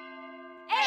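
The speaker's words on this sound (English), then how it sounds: "The clock makes sounds when it chimes the hour." A cartoon clock chimes the hour with a single bright, ringing bell tone that hangs in the air before a voice starts up.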